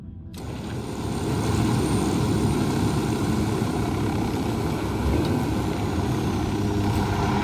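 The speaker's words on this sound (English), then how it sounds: "The Drone is up." Drone in the video game Ghost Recon Wildlands flying, a loud steady engine drone that rises quickly and then holds as a constant airborne whir for the rest of the clip.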